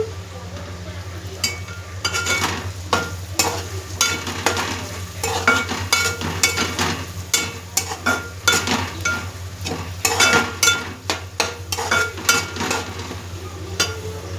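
Squid and prawns stir-fry in a pan with chili powder while a spatula scrapes and clinks in a rhythmic stream of sharp strokes over a continuous close sizzle.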